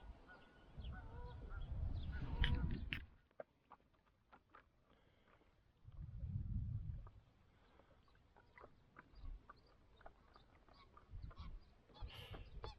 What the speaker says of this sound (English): A few Canada geese there.